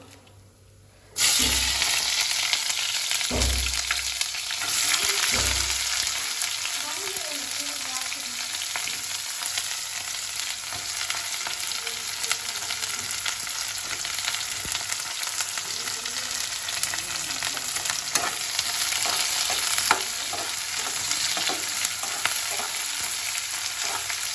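Onions hit a hot pan with a sudden loud hiss that settles into a constant, close sizzle, with a few stirring knocks early on and no voices.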